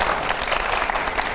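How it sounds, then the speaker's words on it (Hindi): A television studio audience at TV9 Bharatvarsh bursts into brief, dense applause, loud and close, with many hands clapping at once. "बहुत जोर से ताली बजाइए आपके लिए।"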